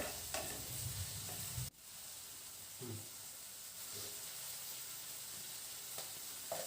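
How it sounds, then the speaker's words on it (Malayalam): Quail eggs fried with chili powder being stirred in, a soft continuous sizzle and hiss with a few scraping stirs and one sharp knock, faint and close, no voices. "എന്നിട്ട് നന്നായി മിക്സ് ചെയ്ത് കൊടുക്കുക."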